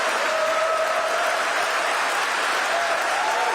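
An audience at Ethel Kennedy's memorial service claps in a dense, even wash of applause that holds steady and loud throughout, with no speech over it.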